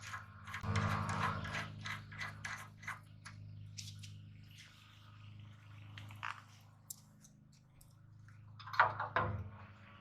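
A hand ratchet clicking in quick bursts while tightening factory bolts on a Ford Bronco modular bumper mount, close and fairly quiet, with pauses between strokes and a final short run of clicks.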